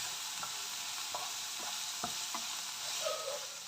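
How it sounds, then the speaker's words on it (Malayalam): Sliced onions fry in a pan with salt while being stirred for a netholi cutlet filling. A spoon scrapes in short, evenly spaced strokes over a constant soft sizzle, with no talking. "ഇത് നന്നായിട്ടൊന്ന് ഇളക്കി കൊടുക്കാം."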